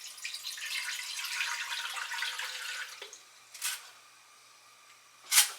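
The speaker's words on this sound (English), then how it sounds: "right now I'm adding water to fill said" Tap water runs steadily into a cooking pot that holds a steamer basket, a close rushing stream for about three seconds before it stops, followed by a couple of brief knocks and a sharp clink.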